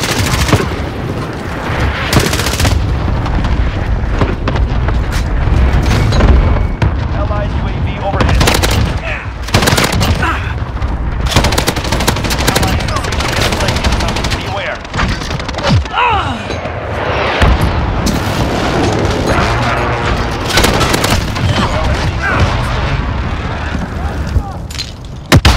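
Heavy automatic machine gun fire from the HWS Lobo PT machine gun and explosions in Modern Warfare 2019 pound almost without a break, loud and close, with a busy mix of bursts and booms.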